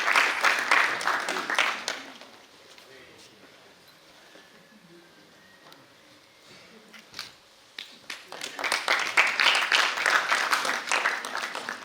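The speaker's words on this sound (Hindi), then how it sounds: "एक बार जोरदार तालियां बालेंद्र सिंह जी के लिए।" An audience at a three-day theatre festival and award ceremony applauds for Balendra Singh, with a burst of clapping at the start, a quieter stretch of murmuring room noise, then applause swelling again and carrying on to the end.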